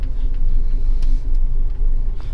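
A car rumbles steadily from inside the cabin during a driving lesson, a continuous close engine and road drone with small ticks and no talking over it.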